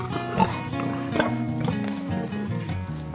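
Pigs at a pig sanctuary grunting in short, close, fairly loud bursts over a steady tonal background, with several grunts scattered across a few seconds.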